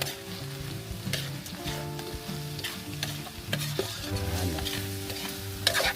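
Miso sautés in a pan for a seafood sinigang, a continuous close sizzle broken by repeated scraping strokes of a spoon stirring, with no talk over it.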